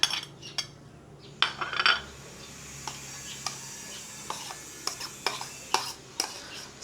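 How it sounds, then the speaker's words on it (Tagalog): Ginger, onion and chili being mixed in a bowl, heard as scattered light clinks and scrapes of a utensil against the dish, fairly close and sparse, with no talking. "Ngayon, imimix-mix na po natin lahat."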